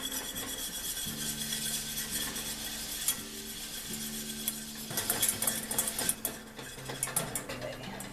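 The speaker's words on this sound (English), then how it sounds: "So I'm going to whisk in the flour." Flour being whisked into melted butter in a pan for a roux, giving a steady close scraping and stirring rasp with a faint sizzle, continuous throughout with no talking.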